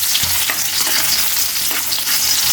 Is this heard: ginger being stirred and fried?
yes